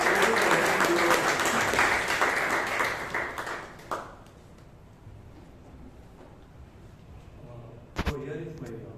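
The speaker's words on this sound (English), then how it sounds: "Please give him a huge round of applause." Audience at a Bangalore Toastmasters meeting breaking into a loud round of applause that fades after about four seconds, followed by quieter room sounds and a brief knock near the end.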